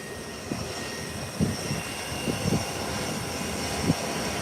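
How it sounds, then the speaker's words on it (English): A Gulfstream G5 business jet takes off from an international airport, its engines a steady, broad roar heard from some distance, with faint thumps and bumps over the continuous rumble. "The G5. Out of here. Butter takeoff."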